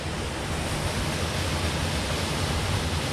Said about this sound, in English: So there's this nice waterfall here that really and truly nobody really comes to